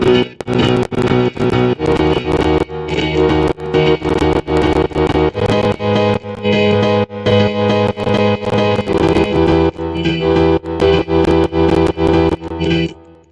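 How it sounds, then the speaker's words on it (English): A piano part from the production of a song plays loud, repeated rhythmic chords in a steady pulse, alone with no voices. "So next up is piano. It sounds like this."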